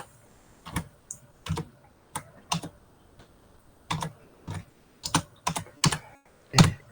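Typing on a computer keyboard, irregular bursts of crisp key clicks, close and clear with quiet gaps between, no talk.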